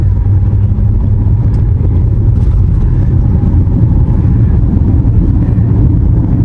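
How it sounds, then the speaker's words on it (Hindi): A 2025 Tata Sierra diesel car pulls hard under heavy throttle, its engine a loud, steady low rumble that fills the cabin without a break, with no voices over it. "अब एक बार आप लोगों को थोड़ा सा गाड़ी को खींच के दिखाता हूं"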